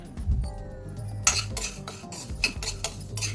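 Fenugreek seeds roasting in a pan over a medium flame, with close metallic scraping and clinking of a utensil against the pan in irregular strokes; no one speaks.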